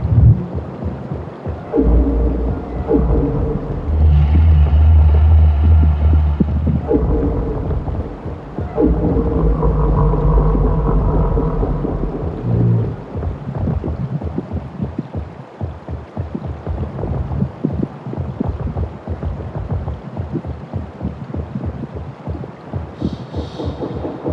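Deep, rumbling calls from a pack of large alien creatures wading through tall foliage sound over a low, roaring ambience, with long droning bellows in the first half and rough, crackling texture afterward.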